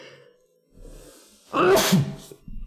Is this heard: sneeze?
yes